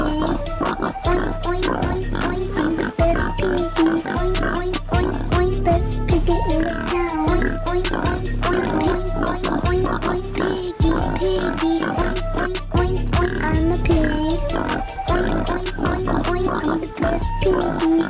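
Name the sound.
voice imitating a pig oinking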